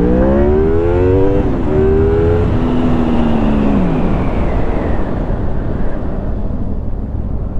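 A 2004 Honda VFR 800 motorcycle, 106 hp, revving hard through the VTEC range above 6500 rpm. The engine pitch climbs, then drops away as the bike slows, loud and close under heavy wind rush.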